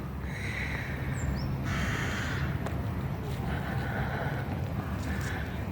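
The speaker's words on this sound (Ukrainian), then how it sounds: "Співають пташки. Та й ворони про себе нагадують" Crows caw a few times in the distance over soft wind and outdoor ambience, with a brief high bird chirp early on.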